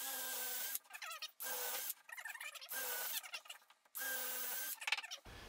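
A drill with a quarter-inch bit bores drain holes in the wooden bottom of a bluebird house, giving several short whirring bursts with brief pauses between them, close and fairly quiet.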